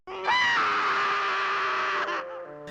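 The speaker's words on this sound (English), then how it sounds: "What was with the nightmare scream baby Paul made?" A cartoon baby lets out a single sustained, piercing nightmare scream, loud and shrill with wavering harmonics, holding for about two seconds before breaking off into a shorter trailing wail.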